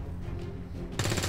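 A single abrupt, loud sniper rifle shot in XCOM 2 cracks in after a low steady game hum, its broadband blast filling the last moment.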